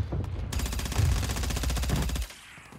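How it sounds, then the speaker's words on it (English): Rapid automatic gunfire from the Warzone video game, a steady loud burst of closely spaced shots lasting about two seconds before cutting off abruptly. "That was a weird sound for bullets."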